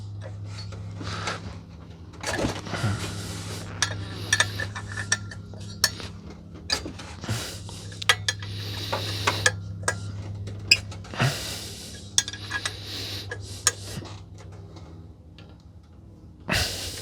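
Metal wrenches in a shiny gold finish clink and rattle as they are picked through and handled while working on a 1985 Merkur XR4Ti water pump, with repeated sharp close taps over a low steady hum.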